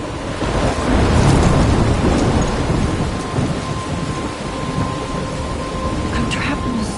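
A heavy thunderstorm in the video game Life is Strange, with loud continuous rain and a deep rolling rumble of thunder that swells early and then settles into a dense roar.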